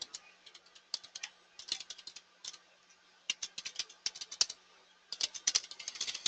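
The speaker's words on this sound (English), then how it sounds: "See how fast I type with all the mistakes?" Rapid typing on a computer keyboard, dense bursts of crisp key clicks with short pauses between runs, close and clear with no speech.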